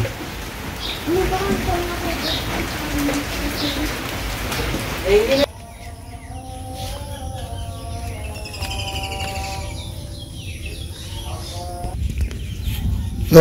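Steady rain patters on a surface, then the texture shifts partway through to quieter dripping with birds calling in the background.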